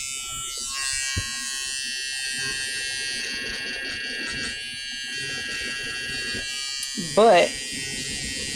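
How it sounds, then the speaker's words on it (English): A Peggy's Stitch Eraser electric seam remover cuts through stitches with a continuous close, thin motor buzz, while someone talks over it and a brief louder burst comes near the end. "I also just wanted to show the stitch eraser and how well it works for me live"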